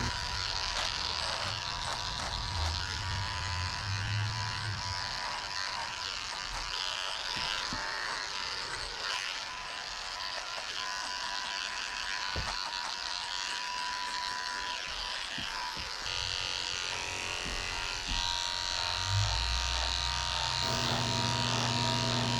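Electric clippers with a thin blade shave the hairy inside of a cockapoo's ears during a grooming shavedown, a steady close buzz that hums on continuously, shifting slightly in pitch as the blade moves.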